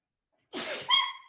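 One close human sneeze, breathy at first and then bursting sharply, fading out within about a second in an otherwise quiet room.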